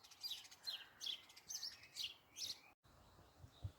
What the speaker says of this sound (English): at the top, we have got a blue tit and a sparrow.